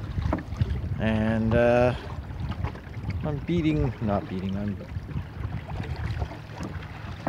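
Wind rumbling steadily across the microphone aboard a small wooden boat sailing under a makeshift old bedsheet sail, with someone talking over it.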